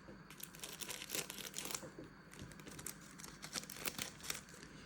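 A crinkly plastic wrapper on a packet of collectible cards being torn and opened up close, with soft repeated crackles and rustles in irregular bursts, fairly quiet overall.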